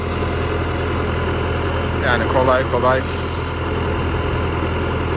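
A Landini Rex 100 GE tractor engine drones steadily while driving a 35 kW PTO generator, its constant low hum continuing under someone speaking nearby.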